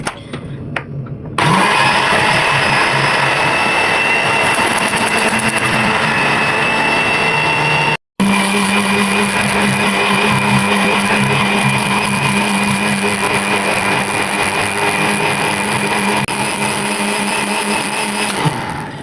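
A kitchen blender whirs through leaves with lemon and water: a loud, steady motor roar starts abruptly, runs continuously, cuts out for an instant, then resumes and holds to the end.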